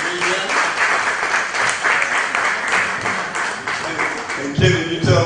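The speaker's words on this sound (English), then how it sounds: "let's give everybody a round of applause" A panel-discussion audience at the 2014 Charleston Organize the South event applauds, a dense, steady wash of clapping that fills the hall throughout, with a few louder claps and voices near the end.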